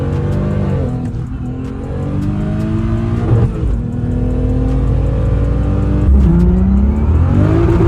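A BMW car with a big-turbo N54 engine drives past loudly, its engine note rising and falling through several rev sweeps, close and continuous with no voices.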